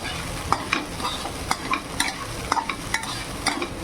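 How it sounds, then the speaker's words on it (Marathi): Sabudana khichdi stirred over low heat in a pan, a soft sizzle broken by frequent quick scrapes and clicks of the spoon, close and fairly quiet, with no talking. "मंद आचेवर हलवून घ्यायचं साबुदाण्याला"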